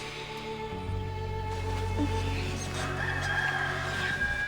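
A rooster crows on a farm, its call rising clearly over a steady low background hum, with no talking.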